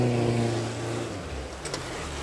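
An engine revs and holds near the rev limiter on a low stretch of the Sabine River, a steady loud drone that dips after about a second, with no talk.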